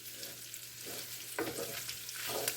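Sausage browning in a skillet for sawmill gravy, a steady soft sizzle with a few scrapes of a utensil pushing the meat around, fairly quiet and with no talking.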